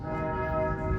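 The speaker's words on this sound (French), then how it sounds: "je suis maintenant troublé par les cloches de la cathédrale de Strasbourg" Strasbourg Cathedral's bells ring with a sustained, resonant metallic hum and layered overtones, heard steadily and fairly loud throughout the short moment.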